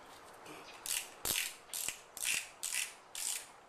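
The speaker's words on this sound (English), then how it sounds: "You don't have to tie your shoes. You just crank them down." Ratchet lacing on triathlon shoes being cranked down, a series of about six quick clicking ratchet bursts in an even rhythm, close and crisp against a quiet background, no voices.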